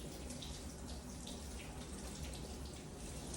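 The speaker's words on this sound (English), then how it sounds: "Let me rinse this top off because we'll end up using this again." Tap water running over a lid being rinsed at a kitchen sink, a soft steady splashing stream with slight fluctuations, faint and continuous without speech.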